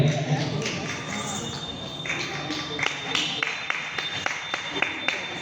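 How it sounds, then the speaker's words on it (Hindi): Audience clapping at a stage music and dance programme, a scattered, uneven run of claps that grows busier partway through and continues to the end, with background voices underneath. "जोरदार तालियां।"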